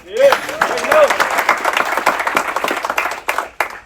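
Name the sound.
audience applause for the ship's crew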